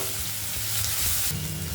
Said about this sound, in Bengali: আর কাঁচা লঙ্কা কুচি দিয়ে একটুখানি নেড়ে নেবে